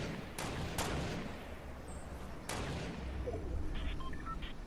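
Gunfire exchanged between other players in Fortnite, distant and intermittent: a few sharp cracks and short bursts over a low rumbling game ambience, with small electronic beeps toward the end.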